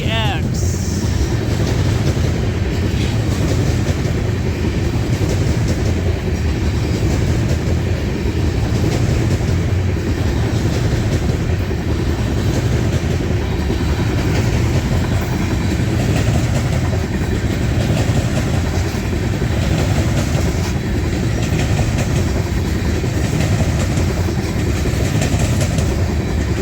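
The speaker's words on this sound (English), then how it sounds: "Looks like a full grain train." A loaded grain freight train rolls past close by in a loud continuous rumble of wagons and wheels, with locomotive engine noise, steady throughout.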